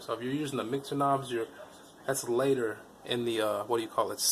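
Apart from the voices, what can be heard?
No everyday noises stand out.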